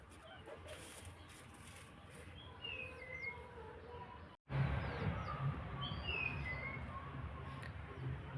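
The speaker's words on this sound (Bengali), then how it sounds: "যদিও কোকিলের ডাক শুনতে পাইনি কিন্তু পাখি ডাকছে" Several small birds chirp and call intermittently in an outdoor garden on a spring day, with short whistled notes over a steady breezy rustle; a brief dropout interrupts midway before the birdsong and ambient noise return slightly louder.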